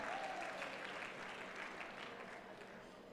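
Steady, sustained applause from a large audience at the IPM 2019 awards ceremony, a dense even wash of clapping that holds for the whole stretch at moderate, somewhat distant volume.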